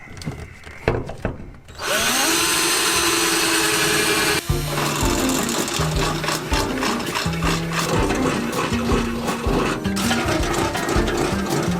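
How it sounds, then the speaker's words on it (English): A power drill whines loudly and continuously, its motor pitch stepping up and down as it bites into a metal truck toolbox while installing a train horn kit, after a few short knocks and clatters. "I'll only need to drill into the box and not the truck"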